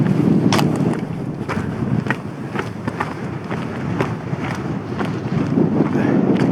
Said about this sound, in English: Yeah, it's gusting now.